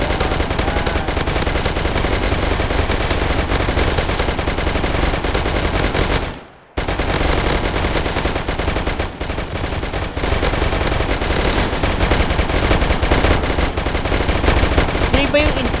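Nonstop rapid automatic gunfire from the Roblox shooter game Aftermath roars loud and dense for the whole stretch, with one brief drop near the middle before the firing carries on.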